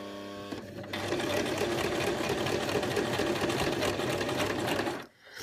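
A sewing machine stitches a jeans hem in a steady, fast mechanical whirr that starts after a short pause, runs evenly for several seconds and then stops abruptly. The machine sounds close and loud.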